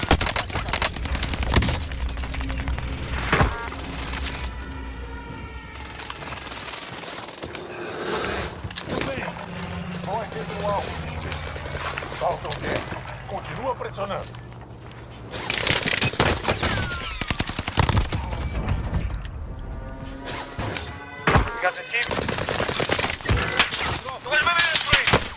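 An air strike and gunfire in Call of Duty Warzone (Vanguard era), with bursts of rapid automatic fire and heavy impacts coming in clusters, loud and close, while voices talk over the action.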